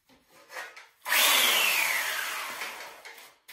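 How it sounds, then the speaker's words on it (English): A hand plane shaving wood for a sword build makes one long, loud, rasping stroke after a few faint scrapes, fading slowly toward the end; no talk. "and then I just kind of start planing"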